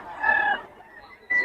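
A stag gamecock clucks sharply, then breaks into a short crow after a brief pause, close and loud with no talking.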